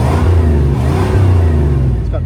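A 1988 Chevy G20 3/4-ton van with a 350 V8 and factory exhaust with catalytic converter runs steadily at a low, even rumble, close and loud, with a slight rise and settle in pitch partway through.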